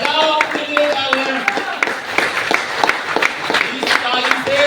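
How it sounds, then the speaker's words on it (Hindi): An audience at a training program claps for itself, a dense, lively patter of many hands over a busy room, with other voices mixed in underneath. "तो बजाओ अपने लिए तालियां।"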